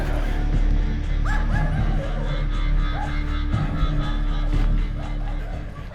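A guard dog on a chain at a security booth near a diesel locomotive barks several times, somewhat distant, over a loud steady rumble and background noise.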